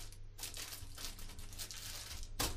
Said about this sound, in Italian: il tasto vibrando produce un suono tipo, tipo un, un suono fritto